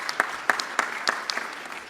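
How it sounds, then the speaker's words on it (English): A small audience claps for the chief guest at a CXO roundtable meeting, a brief patter of scattered hand claps in a quiet room, fairly sparse and close. "Let's welcome with a big round of applause."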